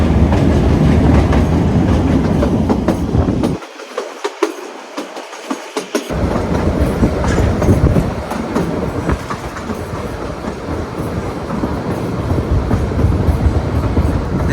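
Kangra Valley Railway train running along its hilly route, a loud, close rumble and rattle of carriages with rhythmic clickety-clack from the wheels, briefly muffled midway before returning at full strength.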